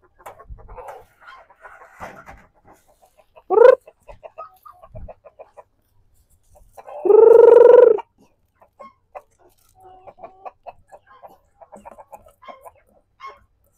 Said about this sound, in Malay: So saya bagi dekat saya punya ayam lak saset saya ni.